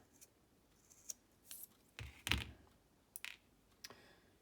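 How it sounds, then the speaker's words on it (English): Scissors snip through synthetic paracord rope in a few quiet, separate crisp cuts and clicks, with faint room hush between them. "if I have to cut that rope"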